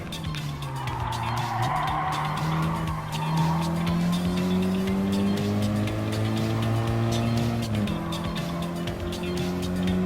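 Race cars in Gran Turismo Sport battle for position on a final lap while overtaking a Lancia Stratos rally car: loud, droning engines rise and fall in pitch alongside sustained tire squeal and skidding.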